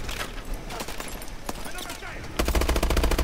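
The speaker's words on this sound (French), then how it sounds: "je tire plein de balles, il est pas mort" Rapid automatic gunfire from the video game Call of Duty: Advanced Warfare, a dense stream of shots that grows louder and more regular in the final second.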